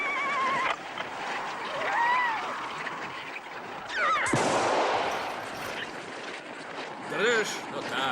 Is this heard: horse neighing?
yes